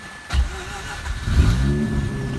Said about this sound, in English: Wow, started up very nicely.